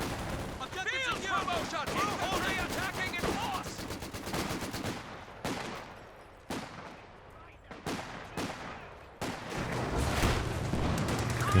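Battle noise from Company of Heroes 2, including an infantry support gun firing, comes as rapid bursts of gunfire and heavy shots in irregular volleys that fade and return, while a voice talks over it.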